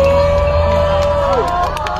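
A crowd at a car-smashing event at Hope Brigade Days 2022 cheers and shouts in a loud, busy wash of voices, with a steady tone sliding downward partway through.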